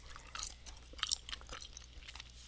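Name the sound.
chewing food loudly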